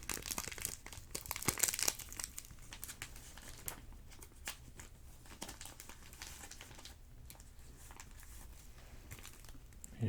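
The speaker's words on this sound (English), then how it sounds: "they were in this plastic wrap" Plastic wrap on trading card packages crinkles softly and close by, with a denser burst of crackling early on, then lighter, scattered rustles.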